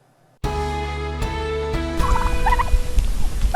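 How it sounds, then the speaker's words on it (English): Pasture-raised turkeys on an open prairie farm gobbling loudly, a burst of rattling gobbles starting abruptly, then continuing as a noisy flock chorus. "raising pasture-raised turkeys the old-fashioned way"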